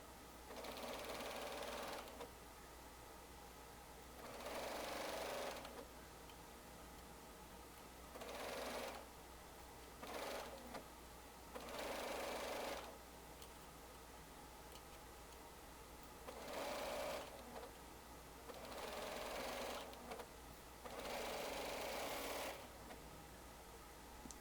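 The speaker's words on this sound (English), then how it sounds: "Be careful as you go over the zipper with your serger or sewing machine." A sewing machine runs in short bursts of rapid stitching over a zipper on a sweatshirt, stopping and starting about seven times with quiet pauses between.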